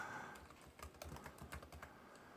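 Computer keyboard typing, a run of irregular clicking keystrokes, close and fairly quiet, during a Linux drive-cloning setup with no talking.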